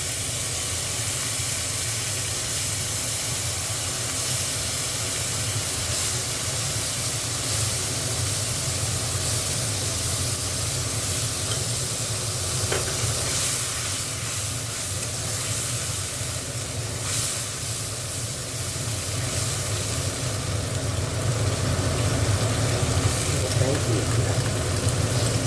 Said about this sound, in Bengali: পেঁয়াজটা একটুখানি ভেজে নিই